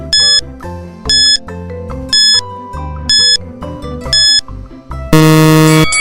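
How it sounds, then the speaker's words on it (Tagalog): A quiz countdown timer plays a repeating pattern of bright electronic chime bursts about once a second over a low synth backing, and ends in a louder sustained buzzer tone. "Your timer starts now."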